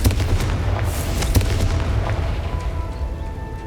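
In a Harry Potter video game, a Confringo fire spell goes off in a burst of booming, crackling blasts, with sharp pops early on that fade into a low rumble. The sound is moderately loud and heard alone.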